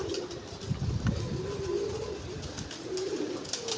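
Fancy pigeons coo softly in low, rolling murmurs, with a faint hum of traffic in the background.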